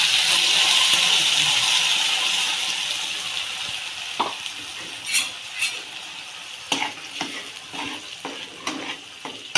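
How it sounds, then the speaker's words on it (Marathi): Ground masala paste frying in a pan with curry leaves for a fish curry, a steady loud sizzle that gradually eases, followed by intermittent stirring scrapes and clinks of a utensil against the pan. "चांगला भाजून घ्यायचा हा मसाला"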